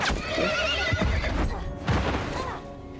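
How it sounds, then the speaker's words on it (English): A horse in the video game The Last of Us neighs loudly as it gets hit, a shrill whinny with hoof clatter and thuds, followed by a second cry amid brief voices. "your horse will get hit sadly, and you will tumble down this little bit of a ledge"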